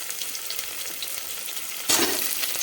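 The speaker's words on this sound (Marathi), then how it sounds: "लगेचच कांदा घालायचा आहे कांदा घातल्यानंतर आपण जे मिरचीचे तुकडे होते ते घालून घ्यायचे आहे आणि लगेचच आलू सुद्धा घालून घ्यायचा आहे" Onion, chili pieces and potato chunks fry in a hot pan, a steady close sizzle that suddenly flares louder near the end as more goes in, with no talking.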